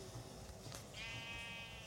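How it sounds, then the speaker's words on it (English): A sheep bleats once in a Minecraft-style video game, a short wavering cry near the end, faint and alone over low background noise. "I'll go get my sheep. I have my sheep right here, yeah?"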